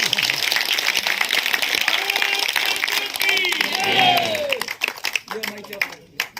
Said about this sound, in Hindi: ताली बजाकर, ताली बजाकर, ताली बजाकर